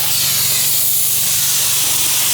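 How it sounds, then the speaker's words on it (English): A DIY spray foam insulation kit sprays onto a shed in one continuous, loud hiss of pressurized foam, unbroken for the whole moment. "It's amazing how much better it sprays."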